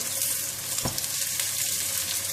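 Fish cake frying in hot oil with browned garlic, a steady close sizzle with a brief knock or stir partway through, no talking.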